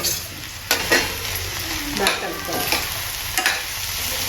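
Tomato pieces fry in hot oil with chili powder and coriander powder for a raw banana masala curry, giving a steady sizzle with a few scraping stirs, close up and with no talking.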